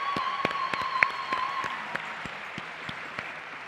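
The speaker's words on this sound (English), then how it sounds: "So if we can give our hands, a round of applause to our planning committee." Audience applause for a planning committee at a Relay For Life summit wrap-up session, a steady crowd clapping that stays fairly loud and even throughout, with a few sharper individual claps standing out.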